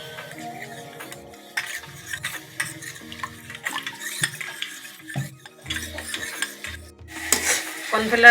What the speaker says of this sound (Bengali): এক চামচের মতো কর্নফ্লাওয়ার আছে আমি এটা জল দিয়ে গুলে নেব